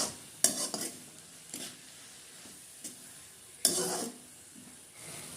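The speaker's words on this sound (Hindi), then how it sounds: "इसको अच्छे से चलाएंगे" Cabbage curry with cumin powder and Kashmiri red chilli being stirred in a pan, a few separate scraping strokes of a spoon over a quiet, low sizzle, no talk.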